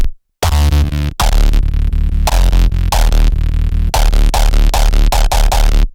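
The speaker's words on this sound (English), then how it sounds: "I'm using a hard style kick as the low end." A hardstyle kick drum, used as sustained low end rather than on quarter notes, rumbles loud and continuous with a throbbing LFO-like pulse, chopped by brief gaps and a short silence near the start.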